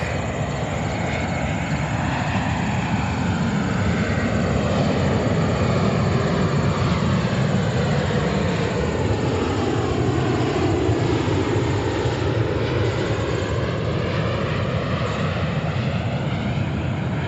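A Norse Atlantic Boeing 787-9 rolls on runway 4 right at JFK, its steady broadband jet roar holding loud and constant throughout with a slow, sweeping tonal shift as it passes.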